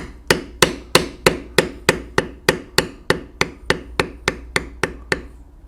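Beveling tool struck repeatedly with a mallet while carving a leather bear head, about fourteen sharp evenly spaced taps in a steady rhythm, close and clear with no talking.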